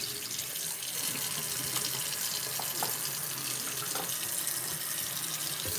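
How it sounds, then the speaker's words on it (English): Cold water runs from a tap into a sink in a steady, continuous splashing stream, close and fairly loud, with no talking. "Got the water running for him."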